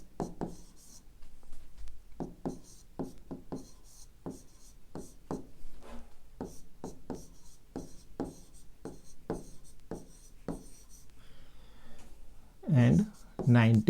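Pen writing numbers in word form on paper, a run of quick distinct scratching strokes in uneven rhythm, close and clear, with a short burst of speech at the end.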